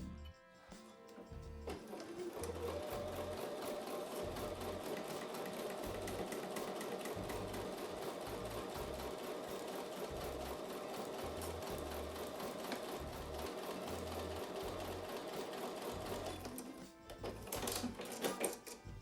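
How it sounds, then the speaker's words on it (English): A sewing machine stitches a quarter-inch seam on quilt block fabric, a steady rapid mechanical whir running continuously for about fifteen seconds after a short start, then stopping with a few clicks. "I'm going to take that to the sewing machine and sew with a 1/4 inch seam"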